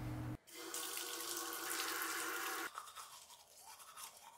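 Water runs steadily from a bathroom tap or shower in a morning routine, a close, even hiss that drops into softer splashing and trickling.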